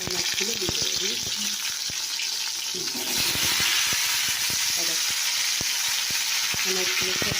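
Fish frying in hot oil, a steady loud sizzle with scattered clicks and pops from stirring, growing a little stronger partway through; a voice speaks briefly over the frying.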